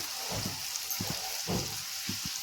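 Cabbage manchurian balls deep-fry in well-heated oil, a constant fizzing sizzle with soft bubbling pops and low clinks of a spoon in the pan, close and steady throughout.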